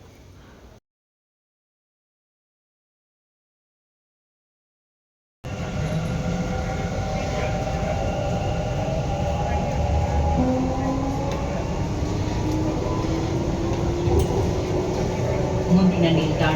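A metro train runs steadily at speed, a loud continuous rumble and rolling hum with rising tones, heard after a brief gap of silence.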